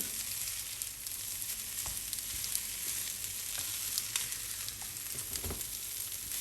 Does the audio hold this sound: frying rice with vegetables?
yes